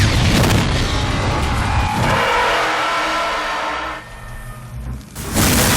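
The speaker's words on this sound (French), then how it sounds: "Maintenant, regardons comment il filme une explosion dans Time and Tide." A film explosion scene from Time and Tide, loud and dense with a roaring, whooshing burst at the start, a lower rumbling stretch that fades and drops away, then a sharp renewed blast at the very end.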